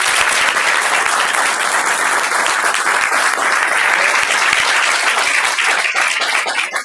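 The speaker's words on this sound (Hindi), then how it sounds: "इस बात पे तालियां जरूर चाहूंगा" Loud, sustained applause from a large audience at a Vestige company meeting, dense clapping filling the whole stretch and only starting to thin out at the very end.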